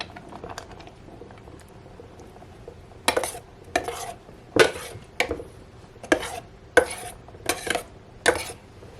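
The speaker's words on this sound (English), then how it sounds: "I'm going to add a large egg that I've beaten. And I'm going to stir it around." A spoon stirs beaten egg in a Hello! 1.5-litre electric stainless steel multi cooking pot, about eight distinct scraping strokes in an even rhythm, close and clear, after a quiet start.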